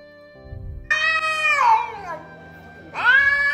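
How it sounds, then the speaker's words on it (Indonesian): A grey cat meows twice, loud and close, the first call long and drawn out with a falling pitch, the second shorter after a brief pause, over a quiet background. "saya ada kucing Abu-Abu"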